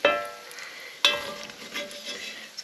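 Rendered bacon fat hissing and crackling in a hot cast iron pan, a steady close sizzle with a couple of sharp pops and clatters.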